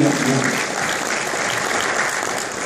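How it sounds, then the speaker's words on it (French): Audience applause for Dr. Wahid Aminou at the FAFI 2016 conference presentation, a loud, dense and steady burst of clapping from a full room that runs unbroken throughout. "je vous demande d'applaudir très fort pour son ingéniosité, Dr. Wahid Aminou"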